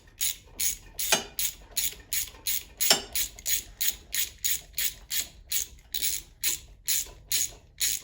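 A hand ratchet clicks in quick, even bursts while a bolt is tightened on an MTD Yard Machines snow blower, about a dozen crisp, close back-and-forth strokes with brief pauses and no talk.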